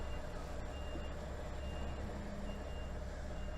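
A 44-ton articulated lorry inching round a tight street corner, its engine a steady low rumble under faint, regularly repeating reversing beeps, with no talking.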